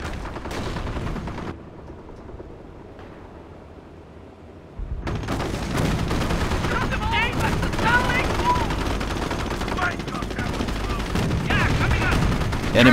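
Gunfire in the World War II strategy game Company of Heroes, dense bursts of rifle and machine-gun shots crackling over a rumbling battle bed, quieter for a few seconds before the fire swells loud and sustained.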